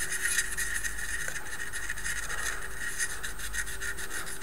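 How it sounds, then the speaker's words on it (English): A brush rubs pastel powder onto a Tamiya 1/35 Panzer II model tank, giving a close, steady scratchy scrubbing sound with rhythmic back-and-forth strokes and no talk. "We just put a bit on our brush. And we rub it in"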